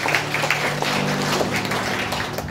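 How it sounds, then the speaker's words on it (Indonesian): A church congregation at a worship service in Cilegon, Indonesia claps loudly and continuously, a thick, close roar of hands over a faint low musical hum. "Berikan tepuk tangan yang meriah buat Allah kita."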